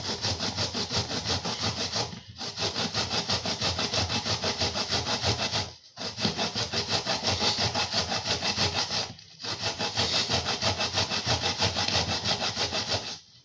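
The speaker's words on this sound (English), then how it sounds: "grate my onion as well." An onion is rubbed against a grater in steady, rapid scraping strokes, loud and close, in three long bursts separated by brief pauses.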